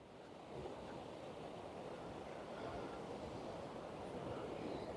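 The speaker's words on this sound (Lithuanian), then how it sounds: "Bangos didžiulės." Large waves roll onto an Irish beach, a broad continuous wash of surf that builds slightly over several seconds, distant and fairly quiet with some wind, no voices.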